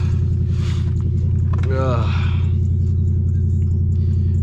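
A car engine runs at high RPM after a cold start, a loud steady low hum with a constant drone, while a brief squeal and whoosh pass over it partway through.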